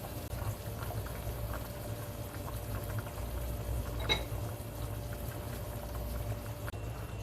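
Korean soft tofu stew (sundubu jjigae) bubbling in a pot, a low continuous burble of boiling liquid, quiet and close, with a faint tap partway through.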